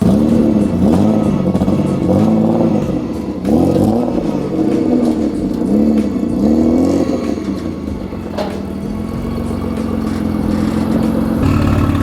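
A supercharged BMW M50 engine in a Toyota Corolla, fitted with a new crank sensor and stock M52 B28 injectors, revs hard on a dyno. Loud repeated climbing and falling sweeps build into a sustained high-rpm drone.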